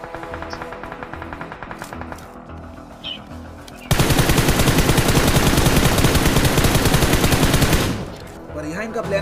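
Sustained automatic gunfire in a battle royale video game, with quieter game sounds and a voice before a loud, dense burst of rapid shots that lasts about four seconds and then stops.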